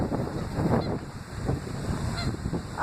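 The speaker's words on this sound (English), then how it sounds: "They're Canada geese." Canada geese honk a few times at a distance beside flood waters, the calls faint under a constant rush of wind and water noise.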